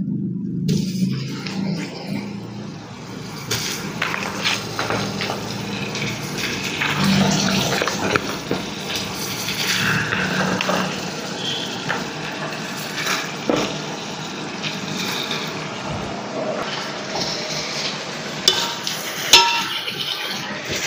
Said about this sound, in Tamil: இப்போ நம்ம சிக்கனை போட்டு ஒரு வதக்க போகிறோம்.